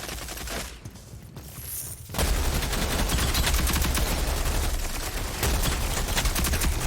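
Rapid automatic gunfire in the video game Rogue Company, with a brief lull of lighter shots before dense, continuous bursts resume and hammer on loudly for several seconds.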